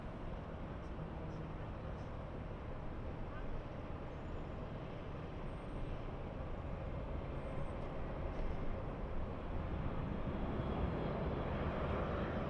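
An Embraer E175 regional jet at LAX, heard as a steady, broad engine roar that holds level and builds slightly toward the end, continuous and moderately loud without talk.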